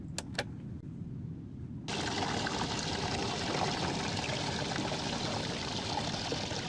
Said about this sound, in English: The water's drained from the duct.